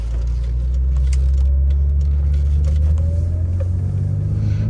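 A 1986 BMW 635 CSi automatic engine hums low and steady from inside the cabin, with a smooth rumble and subtle shifts in pitch as it drives on and changes gear.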